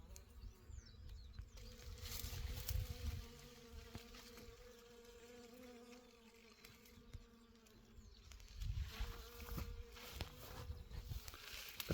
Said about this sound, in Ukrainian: Ну реально зараз гул стоїть такий бджолиний.